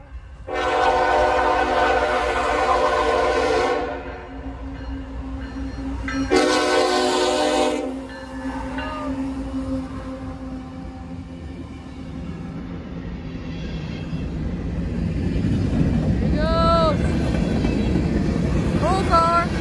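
An old 2010 Olympic locomotive passes, sounding two long, loud multi-tone horn blasts, followed by a sustained rumble of the train rolling by that grows toward the end, with a voice briefly audible.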